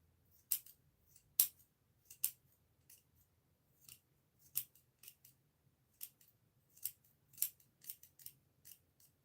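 Scissors snip through felt for a handmade mask in a quiet room, a series of crisp, close cuts in an uneven rhythm with short pauses between clusters of snips.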